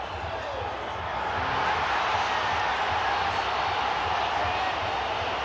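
A stadium crowd at the 1999 West Indies versus Australia Test match at Kingston cheers a run-out, a broad, steady roar that swells slightly and holds for several seconds with no clear voice on top.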